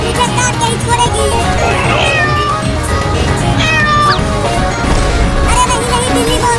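Cartoon cat meows loudly and repeatedly over dense music and effects in a Hindi desi comedy animation, its yowling cries rising in pitch amid a busy, continuous soundtrack.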